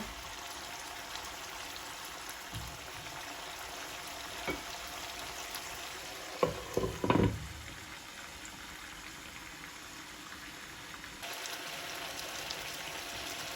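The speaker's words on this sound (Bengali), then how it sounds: "মাছটা মশলার সাথে ঢাকনা দিয়ে এক দুই মিনিট একটু কষায় নিব" Fish frying with spices in a covered pan for dahi bhindi, a faint, steady hiss under a lid, broken midway by a few brief clattering knocks.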